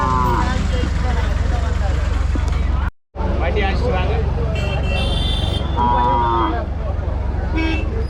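Cattle low at a busy livestock market, several calls rising over a constant crowd hubbub and nearby talk, with a brief dropout near the middle.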